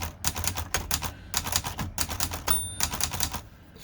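A Hermes Rocket typewriter with a squeaky space bar clacks through a rapid run of sharp, close keystrokes in uneven bursts, with a thin squeak briefly audible partway through.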